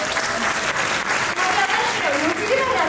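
Audience applause fills a hall during a women's medical-school tuna (Tuna Femenina de Medicina de Valencia) performance at the Ateneo Mercantil, a steady dense clapping that holds evenly for the whole stretch.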